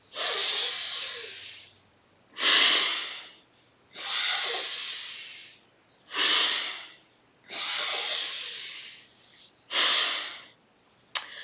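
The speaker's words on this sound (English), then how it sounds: "here's what the full breath using the 3 different parts looks like" Six slow, deliberate full three-part breaths, each a long, loud airy rush of inhaling or exhaling separated by short pauses, close to the listener with no talking.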